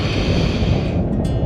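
Wind blowing hard across a sailboat at sea, a loud, steady rushing roar with a faint wash of water beneath it, no voices.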